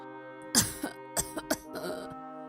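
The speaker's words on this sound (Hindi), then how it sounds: "फिर से खांसने लगती है।" Several coughs and throat-clearing bursts, close and fairly loud, in an irregular sequence with short pauses between them.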